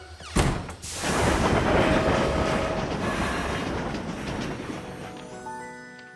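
A train in a My Little Pony cartoon rolls along the rails with a loud, steady rumble, rhythmic clickety-clack and a faint wheel squeal, and no voices.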